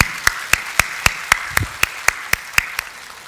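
About a dozen evenly spaced, sharp claps ring out in a church service, sounding like one or a few people clapping in a steady rhythm close by rather than a full congregation.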